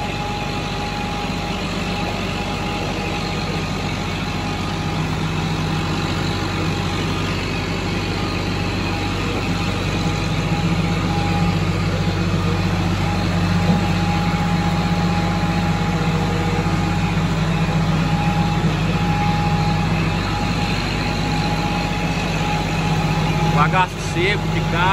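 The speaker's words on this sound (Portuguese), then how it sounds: "Tomada de força para trator." Steady engine drone with a constant low hum and a sharp tone near 900 Hz, from a tractor driving a motorless sugarcane mill with planetary drive through its power take-off, continuous and fairly loud for the whole stretch.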